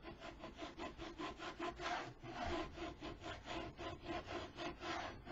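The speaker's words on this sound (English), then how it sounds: "Burnish it." A vinyl decal for baby announcement wall decor being burnished with steady, rhythmic rubbing strokes. The back-and-forth scraping is close and continuous, with no voices.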